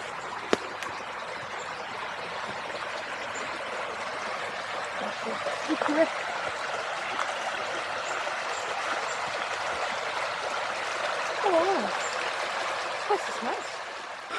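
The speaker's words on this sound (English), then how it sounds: "it's actually got a fair bit of water in it today" Steady flowing water babbles continuously, a soft broadband wash with occasional small splashes and trickles, fairly close and with no voices.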